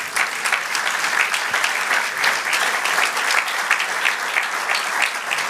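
Dense, sustained applause from a church congregation praising the Lord, with many overlapping claps forming a bright, steady roar. No voices are heard, and the clapping stays at an even level throughout.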